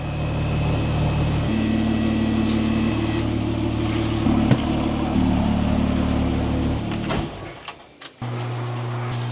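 A Porsche 997 Turbo engine idles steadily up close, a low constant drone with harmonic hum, briefly dipping near the end before settling again; no one speaks.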